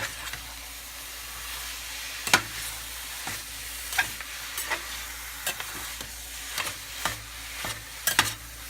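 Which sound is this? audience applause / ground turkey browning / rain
ground turkey browning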